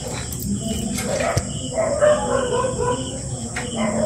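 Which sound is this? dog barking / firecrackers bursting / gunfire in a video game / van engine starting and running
dog barking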